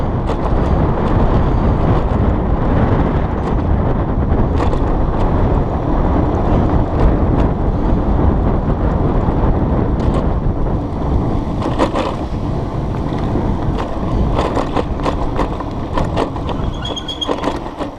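Strong headwind buffeting the microphone while riding an Emmo Urban S e-scooter uphill on a commute, a loud continuous roaring rush with gusty swells and some rattling clicks later on.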